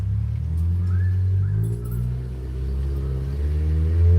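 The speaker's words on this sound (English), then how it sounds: "The traffic's coming." Road traffic passes outside at the end of the workday, a steady low engine rumble of cars driving by that swells slightly toward the end, with no talking.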